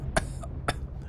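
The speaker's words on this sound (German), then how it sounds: "Hust, hust, hust." Two sharp, dry coughs sound close to the microphone, about half a second apart, from someone commentating over a PC platformer game. No talking.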